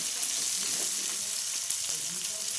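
Cubed onions fry until reddish in a pan, a close, steady sizzle with faint stirring movement across a brief stretch.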